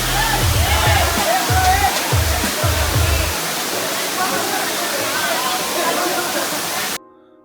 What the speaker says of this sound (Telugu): మన పాలకొండలో మన కడపలో ఉన్న వాటర్ ఫాల్స్ని చూపించాను కదా